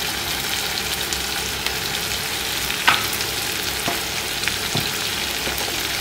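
Masala spice paste frying in a pan: a steady, close sizzle with soft crackle, broken by a few faint stirring clicks and taps.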